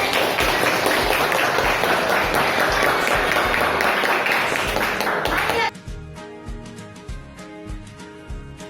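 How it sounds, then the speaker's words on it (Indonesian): Kindergarten students clap together in a classroom, a loud dense burst for about five and a half seconds that cuts off abruptly, followed by a rhythmic group clapping pattern with a sung chant. "Oke, tepuk tangan."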